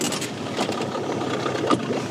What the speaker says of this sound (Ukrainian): зараз трішки заведемо двигун